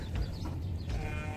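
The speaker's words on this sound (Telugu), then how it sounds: "మేకలు చాలా మేకలు చెవులు చూడండి" Goats bleating on a farm in Kuwait, a brief wavering bleat close by amid low rumbling background noise on the farm.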